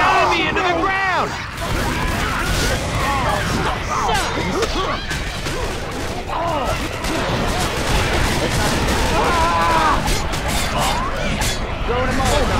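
Rapid gunfire crackles almost continuously in the Left 4 Dead 2 zombie shooter, mixed with whooshing swings and impacts, a dense, loud combat din.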